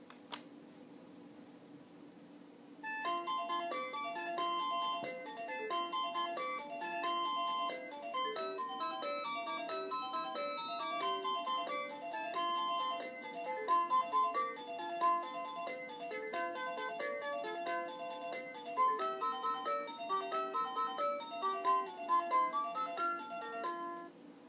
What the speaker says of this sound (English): Type in a number to hear a song.